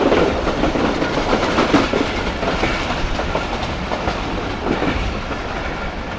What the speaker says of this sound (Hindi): तकरीबन 3:45 बजे हमारी ट्रेन स्किप करने जा रही है पन्नों के कैंट रेलवे स्टेशन को